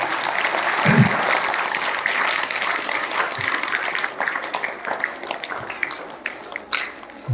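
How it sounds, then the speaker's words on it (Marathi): An audience applauds at a school Shivaji Jayanti celebration, with dense, sustained clapping from many people that gradually thins toward the end. "त्यांच्यासाठी एकदा जोरदार टाळ्या द्या त्यांच्यासाठी"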